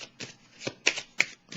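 Tarot cards are handled and laid down in a quick series of crisp, close flicks and slaps, with a few sharper snaps toward the end.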